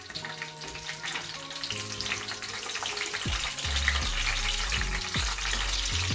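Green chillies drop into hot oil with fenugreek seeds for a spicy fish curry, giving a loud, steady sizzle with bubbling crackle and a few clinks and stirs, close by and without any talk.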